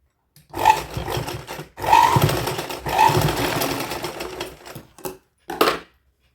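A sewing machine stitches a baby girl's midi dress in several close, loud bursts of rapid whirring, separated by short pauses, with a final quick burst at the end.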